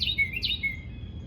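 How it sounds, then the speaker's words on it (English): A wild bird sings in the morning, a few bright chirps and short warbled phrases sounding clear and fairly close over faint low background rumble. "Listen to that beautiful bird."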